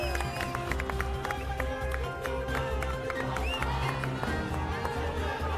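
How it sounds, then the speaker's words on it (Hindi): A large political rally crowd greets Aam Aadmi Party MP Sanjay Singh with sustained applause and cheering, a dense steady roar that runs throughout under music and shouting voices. "जोरदार तालियों से स्वागत करिए संजय भैया का"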